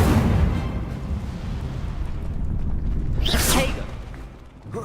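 Incendio fire spell cast in Hogwarts Legacy: a loud, roaring burst of fire with a rumbling low whoosh that swells and fades, then a sharp bright flare near the end, all without talking.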